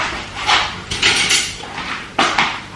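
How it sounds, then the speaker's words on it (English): Spoon and utensils clattering in a home kitchen while fetching a spoon, a series of several clinks and knocks at close range with irregular rhythm, no talk. "So I'm gonna get a spoon."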